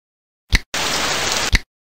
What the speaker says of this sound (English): Today is warm with heavy rain and no wind.